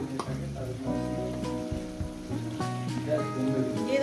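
Tomato, spice paste and the water used to rinse the spice bowl hit a hot frying pan for a Bengali vegetable-and-fish curry, giving a steady close sizzle that runs throughout beneath a voice or music.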